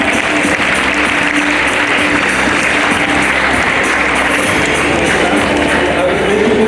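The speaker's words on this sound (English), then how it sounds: "Can we have a huge round of applause?" School audience at a Teachers' Day celebration in Varanasi applauding loudly and steadily, a dense wash of clapping that holds at full level throughout with crowd noise mixed in.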